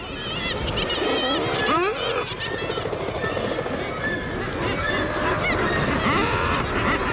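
Seabirds call at a northern breeding colony in a dense, continuous chorus of overlapping honking and squawking cries, loud and close throughout.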